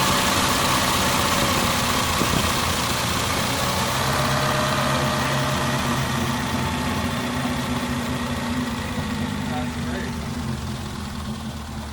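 A 1934 Singer 9 Le Mans engine idling steadily, a close, even mechanical drone with vibration that holds constant for the whole stretch and eases slightly near the end, while people talk over it.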